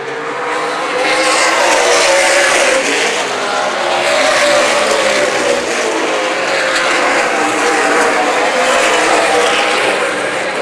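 Race cars lap Dixie Motor Speedway during a Main Event Racing Series feature, a loud, continuous engine roar that swells and eases slightly as the pack circles, with no voices over it.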